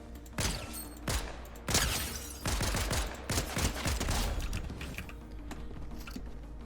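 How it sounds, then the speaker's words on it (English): Hyperburst pistol in the video game Fortnite, firing several crisp bursts of rapid shots with short pauses between, followed by fainter clicking toward the end. "Starting with the current Hyperburst pistol"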